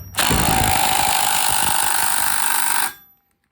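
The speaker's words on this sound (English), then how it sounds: "now we'll grab our 9/16 impact, thread it in all the way," A 9/16 impact wrench threads a bolt into a worn chopper kicker arm in one continuous, loud, close burst of rapid hammering lasting about three seconds before cutting off.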